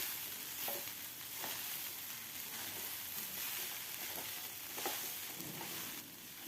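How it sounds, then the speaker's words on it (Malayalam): Poha upma sizzles quietly and continuously in a hot pan on a low gas flame, with soft scraping strokes of a spoon stirring it throughout. "3-4 മിനിറ്റെങ്കിലും ഇളക്കി കൊടുത്തുകൊണ്ടേയിരിക്കണം"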